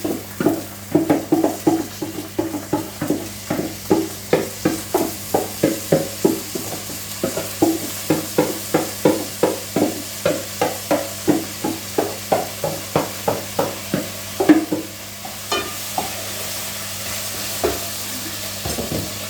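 Rice grains being toasted in a pan for pilaf are stirred in a steady, regular rhythm, each scrape of the spoon clearly audible over a low continuous sizzle, with a steady hum underneath and no talking.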